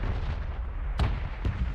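Mortar shells burst in PUBG, two heavy booming impacts about half a second apart, landing close over a constant low rumble of in-game gunfire and background noise.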